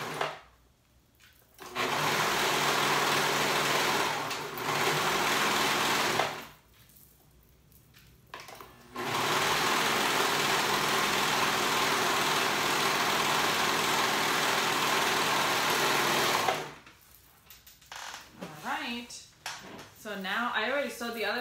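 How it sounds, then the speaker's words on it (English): A sewing machine runs in long steady bursts while stitching both sides of a top together, pausing in between, with a voice speaking briefly near the end. "we're sewing both sides together"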